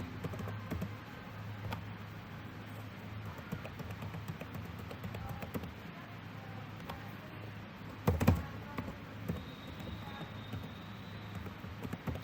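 Soft, rapid keystrokes on a computer keyboard patter steadily while data is entered into a Google Sheets spreadsheet, quiet and close, with one louder clatter partway through.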